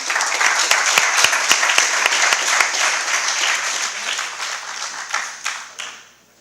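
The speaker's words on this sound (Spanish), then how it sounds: "Por favor, un fuerte aplauso para Laura." An audience at a talk claps loudly and continuously, a dense wash of applause that thins into scattered final claps before fading out.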